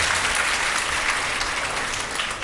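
Audience applause at a Hindi religious sermon, a steady, dense wash of many hands clapping continuously for a couple of seconds, fairly loud and with no voices over it.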